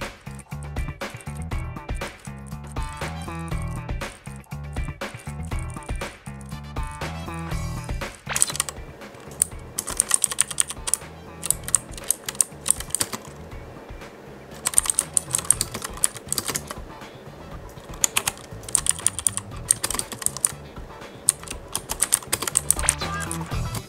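Rapid, steady typing on a Tsunami MK100 mechanical gaming keyboard with blue switches, sharp close clicky keystrokes in dense bursts that grow louder and more spaced in the second half.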